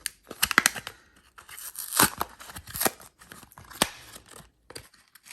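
SD card packaging torn open by hand, a burst of ripping and crinkling plastic in short irregular tugs, close and crisp with quiet gaps between.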